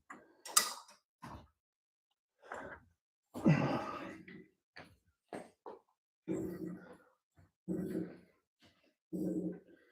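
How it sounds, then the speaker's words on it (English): Creaks and groans from a Mazda Miata resting tightly on jack stands, coming as a series of short, separate strains and squeaks spaced across the stretch, fairly close with quiet gaps between them. "I just hear everything creaking"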